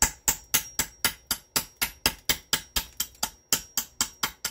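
Hammer strikes trimming an English-style gunflint, a steady run of about eighteen sharp, close clicks and taps at an even, quick rhythm, with no talking.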